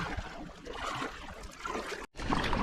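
Paddle strokes from a kayak on a river while fishing for Murray cod: soft, uneven splashing and water swishes close by, with a brief dropout near the end, and no talking.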